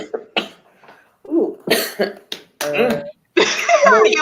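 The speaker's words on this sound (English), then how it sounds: "Now you made me cough." A person coughs in several short, sharp bursts at close range, mixed in with speech and other vocal noises.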